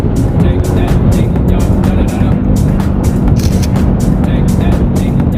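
A motor scooter engine revs at high RPM on a road at dusk, a steady loud drone with a dense low rumble and passing traffic, while a rider talks over it.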